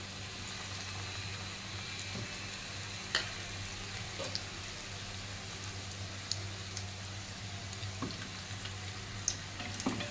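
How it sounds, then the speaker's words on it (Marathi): Katvada fritters deep-frying in hot oil make a steady, close crackling sizzle, with occasional small pops and light clicks over the bubbling. "आता वडा चांगला क्रिस्पी होतोपर्यंत भाजून घ्यायचा आहे. तळून घ्यायचा आहे."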